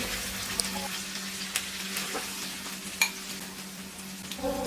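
Chicken or pork liver frying in oil in a pan gives a steady, close sizzle with occasional light scrapes and taps from stirring, and no voices.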